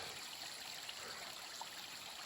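Waterfalls in the Yukon wilderness give a steady, faint, broadband rush of water that holds evenly throughout, with no voices.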